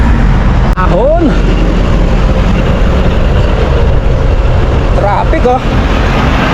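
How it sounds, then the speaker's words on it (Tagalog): Road traffic in Manila on the way to the Philippine Arena via SLEX, heard from inside a moving vehicle as a steady, loud engine and road rumble, with a voice speaking briefly over it. "Traffic oh! Maynila."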